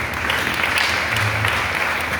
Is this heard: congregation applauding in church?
yes